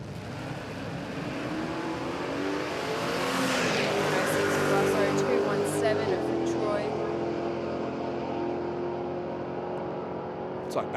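Drag racing cars at Willowbank Raceway in Queensland roar loudly down the strip at night, engine noise swelling and fading over about eleven seconds beneath a commentator's voice.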